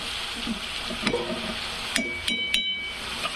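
A dry methi (fenugreek) vegetable dish cooks in a pan with a soft steady sizzle, broken by a few sharp spatula clinks and scrapes against the metal, close by and with no talking.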